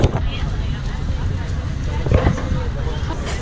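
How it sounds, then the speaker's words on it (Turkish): Strong wind buffets the microphone at a Turkish mussel stand in a steady low roar, with a crowd murmuring and voices chattering underneath. "şu an çok fazla rüzgar var"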